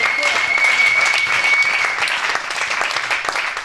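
A church congregation at a women's convention claps and cheers steadily, with dense continuous applause throughout and some voices mixed in.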